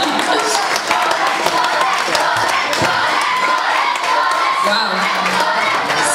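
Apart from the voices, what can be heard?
audience cheering and shouting after a live rock performance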